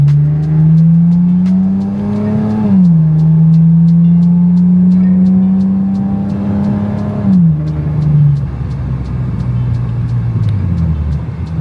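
A Lexus IS300 with newly fitted headers drives by, its exhaust snarling through two rising rev pulls with a gear shift between, loud and close, then easing off into a lower, fading drone.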